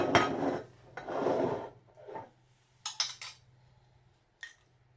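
A metal spoon clinks and scrapes against a dish while scooping marinade onto fish for braising, in a few short bursts of scraping followed by sharp clinks, close up and alone.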